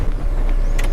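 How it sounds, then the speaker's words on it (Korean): A Honda CR-V Turbo 4WD Touring engine runs right after starting, a brief, loud, steady low hum from close by, with a faint higher tick near the end. "시동을 걸어보면"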